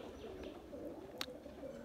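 Normal pigeons in a fresh sale lot coo softly and steadily in a low, continuous murmur, with one brief sharper chirp standing out near the middle.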